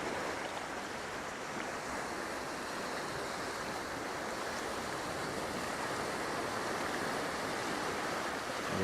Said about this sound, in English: Yeah, I'm just waiting for waves.